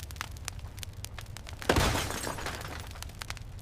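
A server is smashed, a sudden loud crash and shatter of breaking hardware bursting out of steady background noise and then tailing off into a lingering rough wash of debris.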